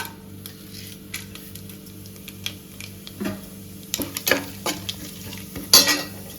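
Cloves, cardamom, pepper and fennel sizzle steadily in hot ghee for Hyderabadi mutton haleem, with spoon stirs and scrapes against the pan rising near the end.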